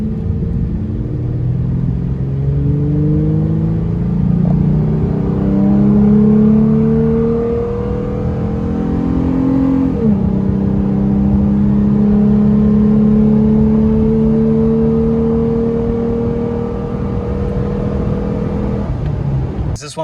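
A 2nd-generation Toyota Tacoma fitted with a Volant intake revs loud and close, with its engine note climbing in pitch, dropping back around the midpoint, then rising again and holding a strong rumbling drone throughout.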